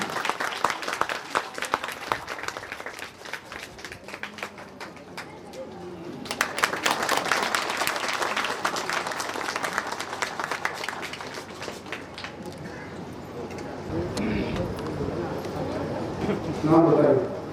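An audience at a statue unveiling ceremony clapping to honour a guest, a sustained patter of many hands at moderate distance that swells midway and fades, with a voice talking over it toward the end.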